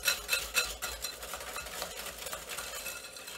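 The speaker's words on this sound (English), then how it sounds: "And we'll stir this in. And we'll mix this for a moment" A utensil stirs sugar into brownie batter in a cast iron pan, a soft scraping swish repeating in a steady rhythm, close and quiet with no talking.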